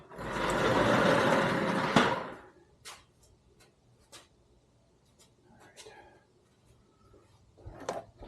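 A 2017 Ford Focus RS bumper is slid across onto a workbench, giving a loud, rough scraping rush for about two seconds, followed by quieter scattered knocks and light clunks of plastic settling.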